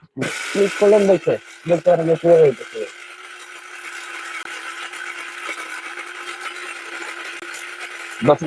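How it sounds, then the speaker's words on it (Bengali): A mini grinder blender grinding dal starts after a few seconds of talking, then runs as a steady, fairly loud electric motor whine with a constant pitch for about five seconds before cutting off. "দেখেন ব্লেন্ডার কিন্তু চলছে"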